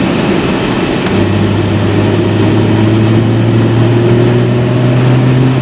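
A Porsche Boxster engine heard from inside the car while cruising, a loud steady drone with a sustained low hum and no voices.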